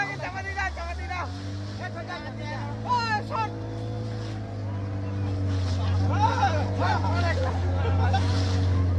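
A motorboat engine hums low and steady during a ride off Udaipur beach in Digha, with people chattering and calling out over it throughout.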